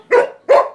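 A dog in The Sims video game gives two sharp, loud barks about a third of a second apart, close and alone.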